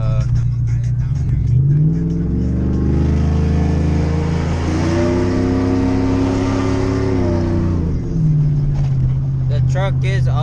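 A 2007 Chevrolet Silverado with a 4.8 V8, stage 2 Texas Speed cam and 3600 stall converter revs loud and close. The engine climbs from a choppy idle into a long rising pull, holds high, then drops back to a lumpy idle.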